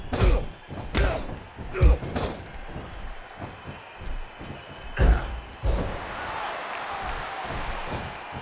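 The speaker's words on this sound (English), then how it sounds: "It's Road Warrior Hawk with a press slam on Sid Vicious, near 300 pounds overhead" Thuds and slams from a WWE 12 wrestling video game bout with a press slam, several heavy hits spaced apart over crowd noise, with commentary-like voices faint in the mix.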